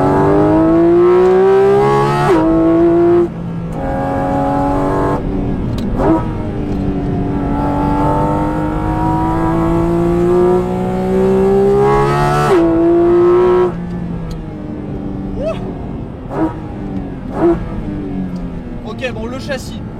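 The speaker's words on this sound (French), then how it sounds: "On a d'ailleurs plus de sons de boîte à air, enfin d'admission, que d'échappement pur et dur." A Porsche Cayman GT4 RS accelerates hard, heard from inside the cabin, its intake roar climbing in pitch through the gears with sharp drops at each upshift, loud and continuous.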